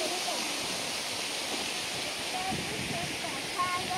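Water sprays onto people at a fair with a continuous hissing rush that stays even throughout, as faint voices come through underneath.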